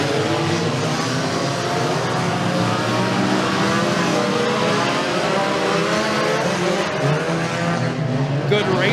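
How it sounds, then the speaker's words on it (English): SCDRA Mini Stock race cars roar around the Bradford Speedway oval in a heat race, engines loud and sustained with layered revving from a close pack, while an announcer talks over the din. "SCDRA Mini Stocks goes green on turn 4 down the front straightaway"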